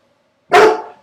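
A single loud, sharp bark from a dog close by indoors, standing alone after a brief quiet moment and tailing off quickly.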